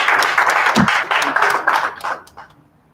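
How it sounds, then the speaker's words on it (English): An audience at an urban development conference claps to welcome a nominated panelist: dense, steady applause that rings out for about two seconds, then thins and fades away, with a voice faintly mixed in. "Can you all clap for Jane and welcome Jane?"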